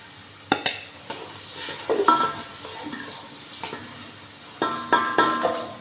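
Onions, crushed ginger-garlic and tomato fry in a pot while a spoon stirs them, giving soft sizzling under intermittent scraping and knocking strokes against the pot, fairly close.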